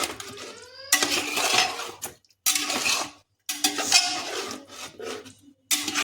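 Chicken biryani masala with yogurt being stirred and fried in a metal pot, with repeated bursts of spoon scraping against the pot walls separated by short pauses, close and fairly loud, with no talking.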